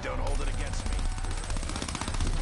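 Rapid automatic gunfire aimed at zombies in a video game crackles in a dense, continuous burst, with a voice talking over the shots.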